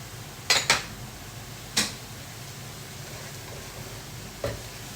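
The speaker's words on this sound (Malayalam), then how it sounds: "ഇനി ഇതിലേക്ക് നമുക്ക് ഗാർലിക് ചേർത്ത് കൊടുക്കണം." Chopped garlic sizzles softly in a pan for chicken mushroom risotto, a steady low frying hiss with a few sharp clinks of a utensil against the pan.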